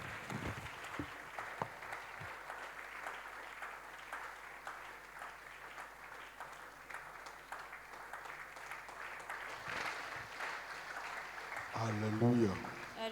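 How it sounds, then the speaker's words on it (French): Worshippers at a midweek communion service clap for the Lord, a faint, steady patter of applause that runs continuously, with a brief voice rising near the end. "Clap for the Lord."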